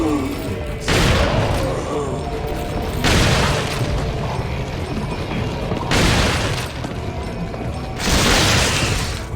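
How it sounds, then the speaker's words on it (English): Resident Evil 4 shotgun blasts: four heavy booming shots spaced a few seconds apart, each a broad crashing burst with a decaying tail over a busy game background with mechanical clatter. "Blasting a dude away with a shotgun is so satisfying."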